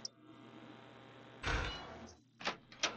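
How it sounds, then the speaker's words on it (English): A door opens in a Five Nights at Freddy's fan game, heard as a low mechanical hum broken by a loud whooshing burst and then two shorter sharp clunks. "The door is open."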